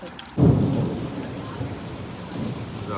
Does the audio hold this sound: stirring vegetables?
no